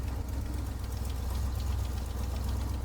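A Chevy V8 fitted in a classic FX4 taxi runs steadily at idle, close and loud, with a low throbbing drone and faint knocking texture, no talking.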